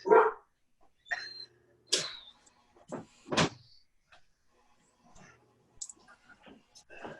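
A pet dog barking in short, separate bursts during a remote committee meeting, moderately close with quiet gaps between them, along with a few small clicks and thumps.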